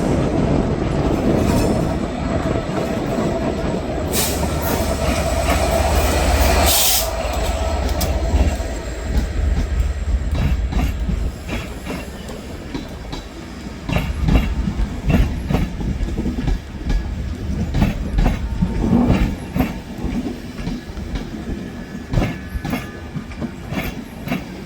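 A Transport for Wales train moves through Manchester Piccadilly station, with loud rumbling and rhythmic wheel clatter on the rails, a brief squeal or hiss, and continuous running noise throughout.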